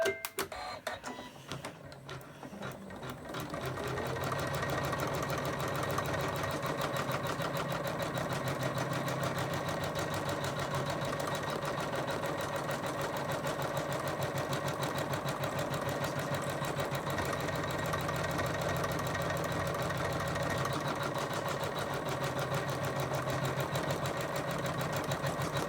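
A Janome embroidery machine runs steadily, stitching out a white lace coaster in a continuous mechanical whir with rapid needle chatter that starts a few seconds in and holds at a constant close level with no talking.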